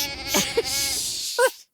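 A sheep bleats loudly and close up, one sustained wavering cry followed by a short second bleat, then silence.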